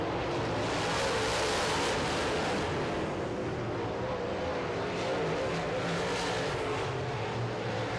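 Modified race cars roar around a racetrack in a continuous, distant engine din, with rising and falling revs and passing surges under a broad wash of noise, no voices.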